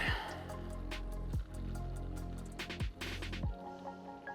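Water drains out of a PC liquid cooling loop with gurgling, squishy liquid sounds, irregular drips and splashes, and a few hollow glugs of air, close and fairly quiet with no talking.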